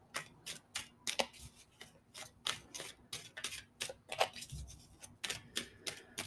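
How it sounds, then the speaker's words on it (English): Tarot clarification cards being shuffled by hand, giving a steady run of crisp, close riffles and snaps, each burst short and repeated at an uneven rhythm, with no talking. "I'm just shuffling for a minute here my clarification cards in case I need them"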